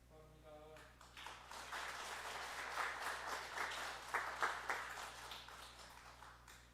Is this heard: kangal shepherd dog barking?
no